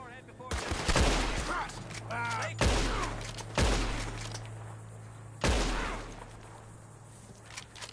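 Bursts of gunfire ring out in Red Dead Redemption 2, several sharp shots and short volleys spaced a second or two apart, loud and close, with a faint voice in between.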